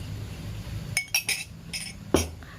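A spoon clinks against a glass while acid solution is added for a chemistry indicator test, a handful of sharp, bright taps spaced irregularly, with a louder knock near the end.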